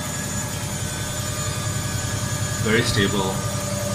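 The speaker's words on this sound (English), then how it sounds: "now this is the machine spinning, absolutely not walking" An Electrolux front-load washing machine runs its spin cycle after a loose damper was replaced, producing a steady low mechanical hum with a brief louder swell. A person speaks briefly over it.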